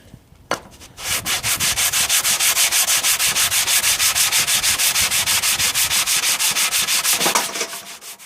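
Synthetic sharpening stones are lapped by rhythmic rubbing strokes, a steady fast back-and-forth sanding scrape repeating evenly for several seconds, loud and close, with no talking.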